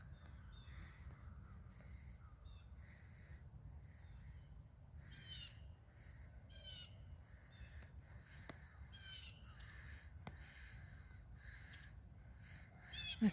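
Birds call on a rural walk past farm animals, with harsh crow-like caws coming in short, scattered bursts at a distance over a steady low outdoor rumble.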